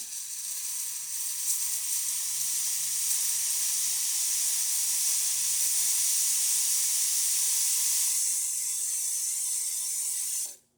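A Breville Oracle Touch espresso machine's steam wand hisses loudly and steadily for about ten seconds with a faint hum underneath, then cuts off abruptly.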